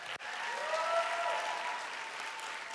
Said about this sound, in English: Please give the president a round of applause.